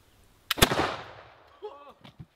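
A flintlock pistol fires at a Highlander targe shield outdoors, giving one loud crack with a long rumbling decay, followed by brief exclaiming voices.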